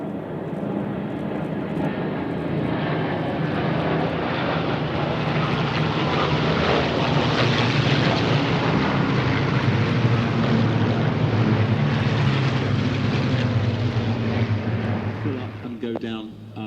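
Propeller aircraft flying at the Flying Legends airshow at Duxford, a steady broad engine drone that swells and holds for the whole stretch, with a voice talking over it.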